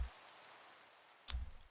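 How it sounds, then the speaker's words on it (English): Steady, faint rain hiss falls in the blocky world of Minecraft, continuous and soft, with one brief low thump near the end. "the rain is actually kind of starting to annoy me"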